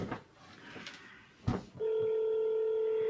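A telephone call rings out as a steady electronic tone that starts abruptly and holds clearly and loudly, following a brief stretch of quiet room noise and a small knock.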